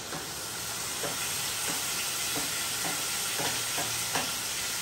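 Onions, green chillies and garam masala paste fry in a pan with a steady, close sizzling hiss, broken by soft scraping stir strokes roughly every half second.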